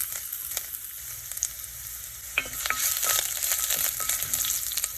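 Ginger sautés in hot oil with roasted gram for a tomato chutney, giving a steady sizzle broken by sharp stirring scrapes and clinks that grow busier toward the end.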